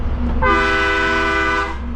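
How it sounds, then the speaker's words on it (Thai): A passing train sounds its horn, a loud, steady, harmonic blast held for over a second against a rumbling rail and road background. "รถไฟมา"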